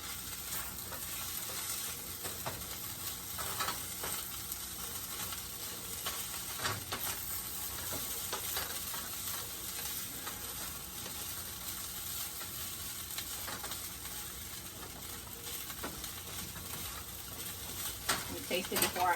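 Spam and kimchi fried rice sizzles steadily in a hot pan as green onions are stirred through, a constant crackling hiss with occasional scrapes and taps of the utensil.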